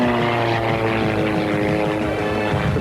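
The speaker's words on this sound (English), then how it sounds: "This plane is moving." Propeller airplane making a fast speed pass at the Oshkosh airshow, a loud continuous engine drone with steady harmonic tones holding strong through the whole moment, no voices over it.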